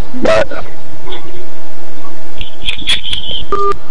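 Telephone line tones come from a caller's phone line on a radio talk show: a short dial-tone burst, then a run of beeps and steady tones near the end, with some voice sound mixed in.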